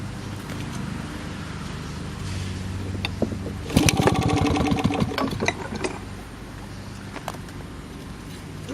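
A Maytag 72DA washing machine's small single-cylinder gas engine, choked for a cold start, sputters and fires up with a burst of rapid popping firing pulses, then runs rough and uneven up close.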